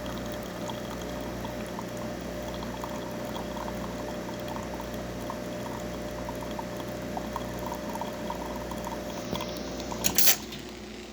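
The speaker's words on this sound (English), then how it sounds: "Getting a nice shot of espresso with really good crema." An Isomac Millenium espresso machine pulls a shot, with a steady pump hum and a soft trickling pour running continuously at low level, ending in a brief sharp hiss near the close.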